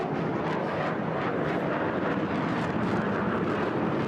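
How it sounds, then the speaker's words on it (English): HAL Tejas fighter jet flying a maneuver at the Bahrain air show: a dense, continuous roar of jet engine noise, loud and unbroken, like a distant aircraft banking overhead. "So coming round for the next maneuver, the Tejas."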